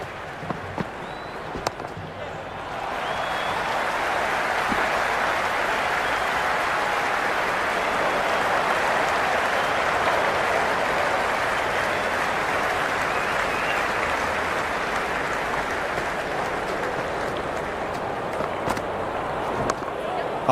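A large cricket crowd at a T20 match between Sri Lanka and Ireland roars and applauds in a sustained, broad wash of noise that swells after a quieter start and holds steady throughout, with commentary underneath.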